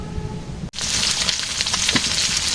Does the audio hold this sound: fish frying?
yes